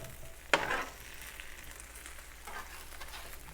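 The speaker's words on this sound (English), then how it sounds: "Hear that sizzle? See that crackle?" Faint, steady sizzling of cabbage roasting in a hot pan, with one sharp crackle-like burst early on and a soft hiss throughout.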